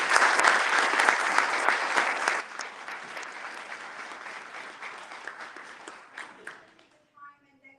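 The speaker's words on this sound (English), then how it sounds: "let's give them all a great round of applause" Audience applause at a mayoral forum, a loud, dense burst of clapping that tapers over several seconds into scattered claps before fading out.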